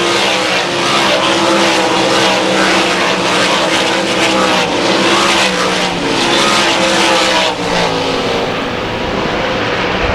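Race cars roar around the banked oval at Susky, several engines blaring continuously at close range, the pitch shifting as the cars pass through the turns without any voices.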